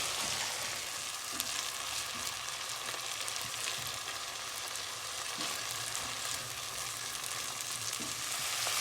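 Mixed vegetables fry and sizzle steadily in a pan for Indian vegetable pilau rice, with a continuous close crackle and occasional soft scrapes of stirring, no talk.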